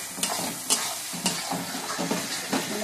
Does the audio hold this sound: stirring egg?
yes